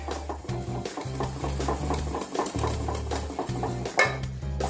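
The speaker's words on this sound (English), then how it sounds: "Give it a whisk." A whisk clinks rhythmically against a bowl while cinnamon is mixed into banana bread batter: quick, steady taps and scrapes, close up, with no voices.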